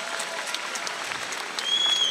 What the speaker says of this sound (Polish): Także wielkie brawa dla Daniela